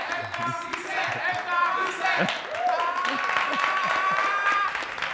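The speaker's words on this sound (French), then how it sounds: "c'est ici qu'on va te dire au revoir avec le max d'applaudissements" Studio audience applause on a Burkinabè TV entertainment show, steady dense clapping that fills the clip, with a host's voice and other speech running over it.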